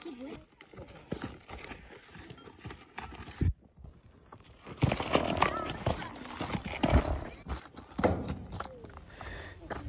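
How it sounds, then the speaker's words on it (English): A sorrel horse snorting and blowing near a loaded trailer, mixed with hoof clops and stamping, while someone talks over the sounds. "Hear that sorrel horse snorting like that?"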